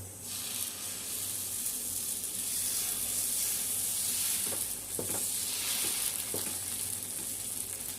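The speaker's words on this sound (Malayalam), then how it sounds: "അപ്പോൾ ചട്ടിക്കല ചൂടായിട്ടുണ്ട് അപ്പോൾ ദോശ ചുട്ടുകൊണ്ടിരിക്കട്ടോ" Dosa batter cooking on a hot griddle pan, giving a steady, close sizzling hiss throughout with a few soft scraping touches, no voices.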